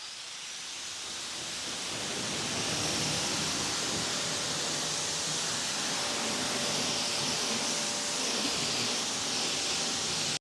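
A pressure washer fitted with a 4.0 nozzle and a permanent-magnet motor, running at about 1,000 PSI and 2 gallons a minute, rinses a surface in a loud, continuous broadband hiss and spray that builds briefly, then holds steady.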